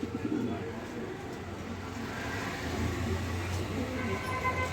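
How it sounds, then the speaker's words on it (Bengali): A pair of racer pigeons sitting on eggs coo softly in low, repeated throaty notes, close but quiet, over a steady background rumble with no talk. "সুপার কোয়ালিটি এক পেয়ার পাইট রেসার খুবই সুন্দর কবুতর ডিমের উপরে আছে কবুতর"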